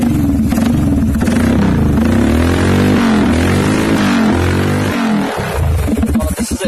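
A Royal Enfield Himalayan flat-track motorcycle fitted with an SC Project exhaust revs loudly and close up, its deep throbbing exhaust note rising and falling through several blips before easing back.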